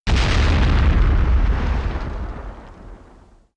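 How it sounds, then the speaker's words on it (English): A loud, deep explosion bursts at once and rumbles on, its roar slowly fading away over a few seconds. "I've got this explosion sound I use here and there, just for the end part of the song"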